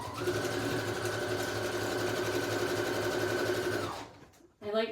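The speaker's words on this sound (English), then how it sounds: "I'm going to sew this tab on" Sewing machine stitching a fabric tab onto a pocket runs in one steady whirring burst for about four seconds, then stops, followed by a brief soft rustle.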